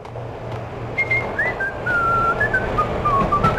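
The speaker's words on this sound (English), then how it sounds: "Who's whistling?" A whistled tune drifts through a scene in the video game Max Payne, a clear rising and falling melody of short phrases over a low ambient rumble.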